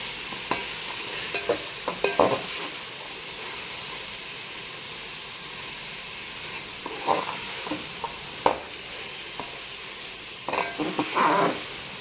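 Carrot halwa with cashews is stirred in a pan over low heat, giving a steady soft sizzle and hiss broken by scattered scraping stir strokes, with no talking.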